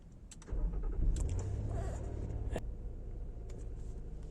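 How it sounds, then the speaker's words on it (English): Infiniti QX60 engine starting: a brief crank at half a second catches into a smooth idle hum that settles and continues steadily, close by with a few light clicks. "All you have to do is start your engine."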